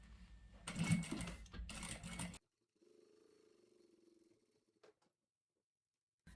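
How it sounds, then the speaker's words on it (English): A sewing machine runs a 1/8 inch top stitch along the edge of a vinyl wallet, giving a close, rapid mechanical patter for about two seconds. A fainter, lower hum follows before it goes quiet. "I like to top stitch this just on the very edge here."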